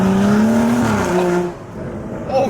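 A Nissan 370Z NISMO with a louder modified exhaust revs hard under acceleration, the engine note rising loud and close before dropping off as the car pulls away, with a brief tire chirp at the end.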